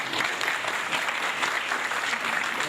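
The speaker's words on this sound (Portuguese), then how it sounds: "Podem aplaudir, gente, que gosta." A seated audience at a peace-media event in Londrina applauds, a dense, even roar of many hands clapping that continues without a break for the whole stretch.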